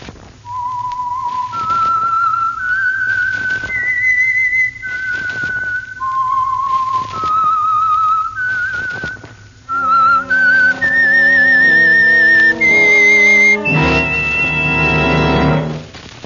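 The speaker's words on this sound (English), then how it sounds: "the signal to listen for is this whistle that identifies the Signal Oil program" A clear whistled radio program theme of sustained notes, solo at first, then joined by orchestral music swelling to a loud ending.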